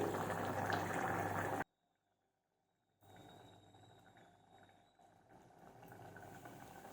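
Tomato dal bubbling in a pot on a stove, a steady simmering hiss and gurgle that breaks off into near silence for a moment before returning more quietly.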